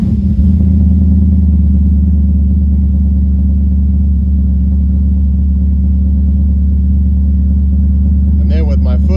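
A Specvette Corvette C1 replica engine runs at a loud, steady idle, deep low rumble filling the whole stretch close up, with a brief higher whine near the end.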